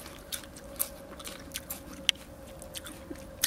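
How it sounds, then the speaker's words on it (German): Someone chewing raw sorrel leaves, close and soft, with light crunchy bites recurring every half second or so over a quiet outdoor hum. "Ihr nehmt den einfach in den Mund, ja, und kaut ein bisschen drauf rum."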